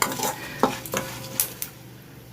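Mustard seeds popping and spluttering in hot oil for vadagam chutney, sharp scattered crackles over a steady sizzle with a few metallic clinks of a pan, close and without talk.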